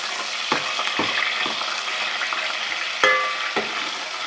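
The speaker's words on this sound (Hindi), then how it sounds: "फ्राई करेंगे इसको।" Ground onion fries in hot ghee with a steady crackling sizzle, punctuated by several sharp spoon scrapes and clinks against the pot.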